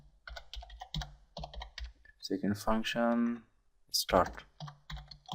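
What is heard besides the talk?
computer keyboard typing code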